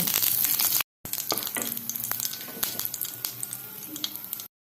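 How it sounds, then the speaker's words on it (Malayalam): Shallots and dried chillies fry in coconut oil with a lively crackling sizzle, broken by repeated clinks and scrapes of a stirring spoon. "നമുക്ക് ഇതെല്ലാം കൂടി ഒന്ന് വെളിച്ചെണ്ണ ഒഴിച്ച് വറുത്തെടുക്കാം"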